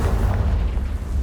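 A Confringo blasting-spell explosion in the Hogwarts Legacy video game produces a dense, sustained low boom that rumbles loudly and steadily through the whole moment without any talking.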